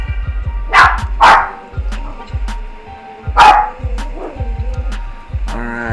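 A dog barks several times in short bursts, loud and close, over a steady low engine-like hum.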